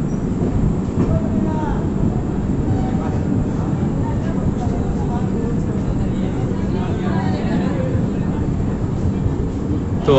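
Jharkhand Swarna Jayanti Express running between Hatia and Anand Vihar, heard from inside as a loud, steady rumble and rattle of wheels on rails that carries on without a break.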